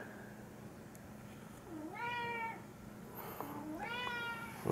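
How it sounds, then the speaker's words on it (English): A house cat meows twice indoors near shelves of books, two drawn-out rising-and-falling cries about a second apart, close and moderately loud over quiet room noise. "And there's the cat, he wants to play."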